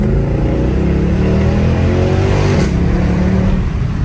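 A car with a suspected axle or gearbox noise accelerates, its engine note climbing steadily and loudly from close by, with no talk over it.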